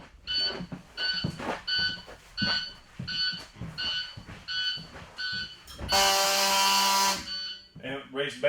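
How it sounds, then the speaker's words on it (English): A school bus walk-through alarm beeps in a steady repeating pattern of short tones, with a longer continuous loud tone near the end and clicking handling noises throughout. "The next thing I have to do is my walk-through alarm."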